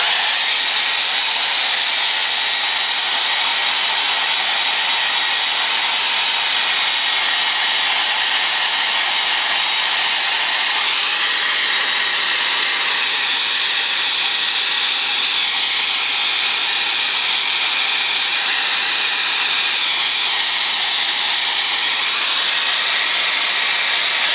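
A hot-air heat gun blows steadily for the whole stretch, setting thin pearlized paint on a crankbait fishing lure between coats, a loud, even broadband rush with slight shifts in pitch as the gun moves, no talking.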